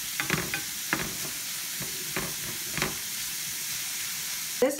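Onion frying in a pan for baked beans, a steady sizzle with intermittent soft stirring scrapes and a louder clatter at the very end.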